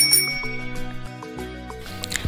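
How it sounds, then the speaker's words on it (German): A bicycle bell rings in quick, bright trills, ringing loud and close and repeating several times with no talking. "Ich benutze die Klingel und klinge so laut ich kann."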